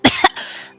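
A man gives two quick, weak coughs up close, then a short breathy exhale trails off.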